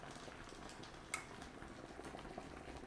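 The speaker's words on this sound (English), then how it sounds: "Can you hear it bubbling? My sukiyaki." A pot of sukiyaki bubbles softly at a steady simmer, with faint continuous boiling and a single brief clink partway through.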